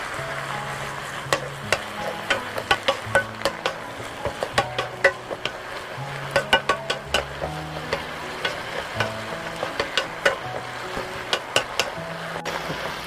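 Shishito peppers with anchovies and garlic are stir-fried in a pan under a constant sizzle, punctuated by rhythmic knocks and scrapes of the spatula against the pan, close and fairly loud.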